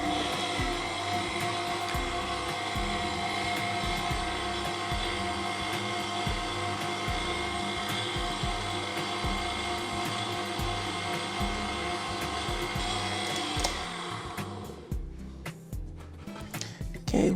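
Electric mixer beating Boston bun dough, a loud continuous motor whir with a rhythmic low thumping, easing off near the end into scattered knocks.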